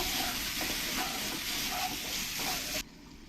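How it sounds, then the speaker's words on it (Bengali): Fried potatoes being stirred into spice masala in a pan for ghugni, a steady close sizzle with soft rhythmic scraping strokes that cuts off abruptly near the end. "আলুগুলো আমি দিয়ে দেবো দিয়ে ভালো করে একবার মশলার সঙ্গে মিশিয়ে নেব"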